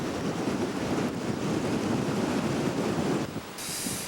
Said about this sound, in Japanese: 風速40メートル、この風は台風と同じ規模なのでもうほとんど動けない